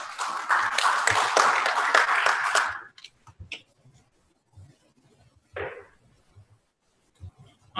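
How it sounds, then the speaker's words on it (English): Conference audience gives a short round of applause for speaker Steve at an internet technology event, clapping for about three seconds then fading into quiet room noise with scattered small knocks. "Let's give him a round of applause"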